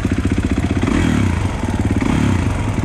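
A 2021 Kawasaki KX 450 dirt bike engine revs hard and close, its rough, rapid putter rising and falling in pitch as the throttle opens and eases.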